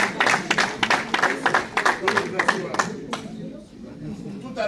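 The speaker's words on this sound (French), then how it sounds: "Est-ce que nous pouvons encore applaudir les mamans?" A crowd at a political party gathering in Brussels claps for the mothers, several seconds of sustained applause mixed with voices before it dies away.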